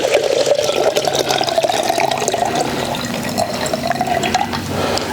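Water poured into a jar for a homemade crystal science experiment, a steady close gurgling stream with rising fill tone and splashy drips, loud and without talk.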